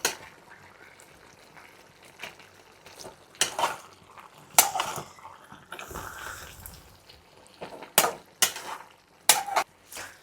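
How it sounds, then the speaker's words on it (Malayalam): Chicken curry being stirred in a pot, a spoon scraping and knocking against the metal in irregular bursts over a quiet background of faint cooking noise, close by and without talk. "നമുക്ക് ഇളക്കി കൊടുക്കാം."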